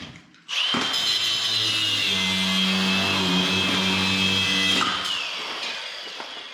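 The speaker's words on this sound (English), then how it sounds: "I'm just gonna cut the shaft." A power tool cuts through a truck shaft in a workshop, a steady, loud, high-pitched whine with a low hum beneath, holding for about four seconds before tailing off.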